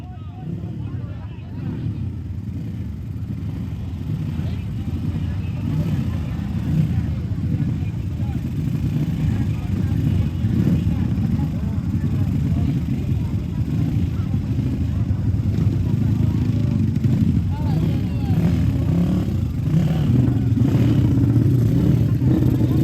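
Supermoto motorcycle engines idle and rev together on the starting grid of a regional open road race at a former airport circuit, a steady, loud, dense rumble throughout with some clatter, no single bike standing out.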